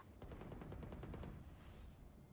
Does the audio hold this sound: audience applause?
no